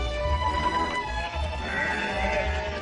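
Sheep bleating as they walk out through a farm gate in Cumbria, a busy layered hum of calls and shuffling from a flock nearby.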